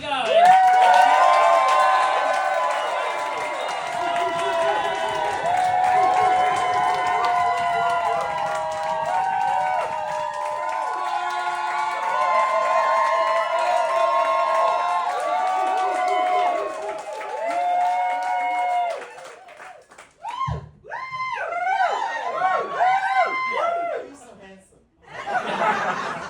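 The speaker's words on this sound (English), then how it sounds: "We'll get some clapping going." Comedy club audience clapping, cheering and laughing for the headliner comedian, a dense crowd noise that runs for most of the stretch before breaking up into someone speaking between bursts of laughter.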